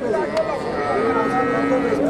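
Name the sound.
local dairy cow mooing at cattle market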